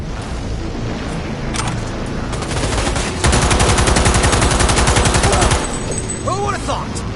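Heavy sustained automatic gunfire in the video game Cyberpunk 2077, a dense rapid burst of machine-gun fire running for several seconds over continuous battle noise, loud and close, with scattered shots around it.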